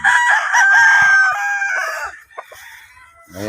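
Young stag fighting cocks on a farm crow loudly and close, one long drawn-out crow followed by scattered clucks and another crow starting at the end.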